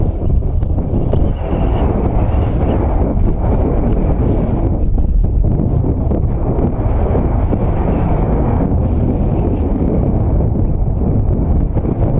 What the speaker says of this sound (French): Des vents violents soufflent avec la tornade.